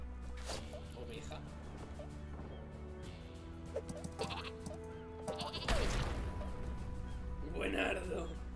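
A sheep weapon in the video game Worms WMD bleats several times over game music and effects, followed by a loud blast; a voice talks over the action.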